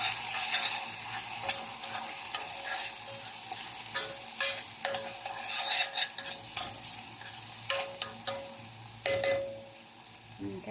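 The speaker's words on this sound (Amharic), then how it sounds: "በዚህ መልኩ ሽንኩርታችን እየበሰለ ነው። አሁን ምን እናደርጋለን? ዝንጅብልና ነጭ ሽንኩርቱን እናደርጋለን።" Onions frying in a pan and being stirred, with ginger and garlic about to be added, give a steady close sizzle broken by repeated scraping and clinking strokes of the spoon, with no voices.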